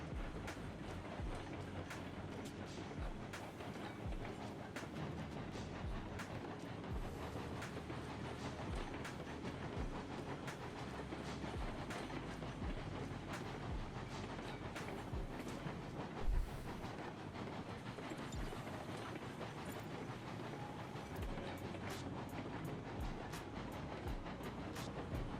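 Locomotive on the Lake Chama & Pacific Railroad running along the track, with a steady rumble and faint rhythmic wheel clatter throughout and one brief thump partway through, no voices.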